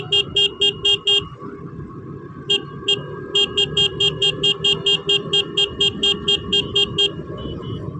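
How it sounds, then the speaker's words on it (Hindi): Repeated car horn honks in quick rhythmic bursts behind a group of riders on a Sunday superbike ride, loud and close over steady road and engine noise. "बंदे को फर्क ही नहीं पड़ता कि सब पीछे से कोई हॉर्न मार रहा।"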